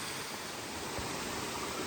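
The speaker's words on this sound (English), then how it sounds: "Look at the beautiful waterfall." Steady broadband rush of falling water at Buttermilk Falls near White Haven, Pennsylvania, constant and fairly loud, with no voices and no change over the short stretch.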